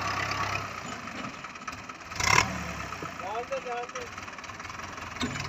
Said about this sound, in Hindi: दबंग ट्रैक्टर, दबंग परफॉर्मेंस है जी